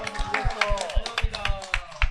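A church youth retreat audience claps for one another in quick, rhythmic bursts, mixed with voices talking over the clapping.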